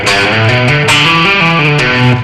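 An electric guitar plays a slow descending rock lick on the low strings with pull-offs, a loud, close, slightly overdriven run of notes ringing into one another, with no voice over it.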